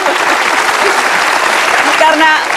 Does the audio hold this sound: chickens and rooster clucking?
no